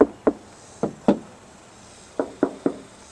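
Dull knocks on a car hood panel, seven raps in loose groups, firm and close with a short hollow ring after each.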